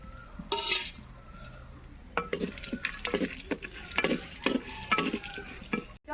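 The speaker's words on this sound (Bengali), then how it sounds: "এখন কিন্তু কিশমিশের কাজও একটু ফ্রাই করে নেব" Raisins frying in a clay pot for Basanti pulao, a hissing sizzle under repeated scraping and knocking stirs that grow busier midway, close by, with no voices.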